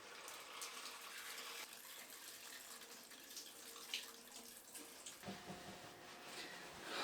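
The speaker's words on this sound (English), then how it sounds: "just taking a quick shower and rinsing off" Water runs from an outdoor sun-warmed shower at an off-grid desert home, a continuous splashing stream with shifting gurgles and spatters as someone rinses off, no talking.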